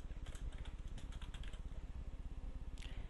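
Computer keyboard typing, a steady run of quick, soft key clicks close by, over a constant low hum in the room.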